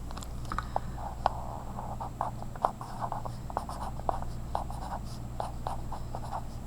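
A pen scratches across paper in quick irregular strokes and taps, soft and close, continuing steadily with a faint low hum in the background.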